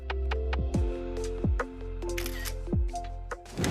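Shutter clicks from a camera fitted with a Yongnuo 56mm F1.4 portrait lens on an APS-C body, several crisp mechanical clacks spaced roughly every second, close and clear with no talking.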